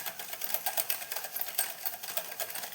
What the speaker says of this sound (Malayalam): നല്ലോണം പഞ്ചസാര ഇട്ടിട്ട് ബീറ്റ് ചെയ്തോളൂ.